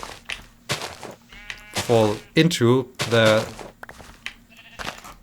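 Sheep in a video game bleat in several loud, wavering calls, mixed in with someone talking.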